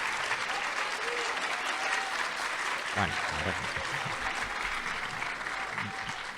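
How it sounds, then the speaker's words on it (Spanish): Sustained applause from a conference audience fills the whole stretch, dense and steady, with a voice briefly speaking over it partway through. "Los dejo que sigan aplaudiendo."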